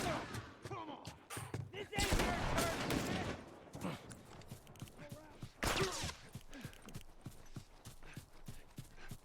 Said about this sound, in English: Whoa, they're shooting at us.